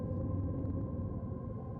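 Low, continuous thunder rumble from a thunderstorm in the PC game Black Book, deep and steady at a fairly quiet level throughout, with no talk over it.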